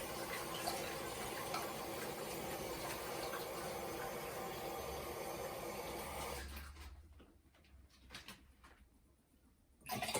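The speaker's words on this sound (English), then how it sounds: "I'm going to add 2 cups of water in here" A steady stream of water pours close by into a measuring cup for several seconds, then stops, leaving a few faint drips and clinks in near quiet.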